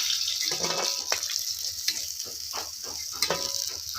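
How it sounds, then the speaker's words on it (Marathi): Bangda mackerel frying in hot oil in a pan, a steady sizzle with sharper crackles and a few scraping stirs, close and fairly quiet, no talking. "आता ह्याच पद्धतीने का नाही मी सगळं असं मासं ना तळून घेणार आहे"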